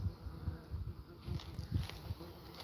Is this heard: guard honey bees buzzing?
yes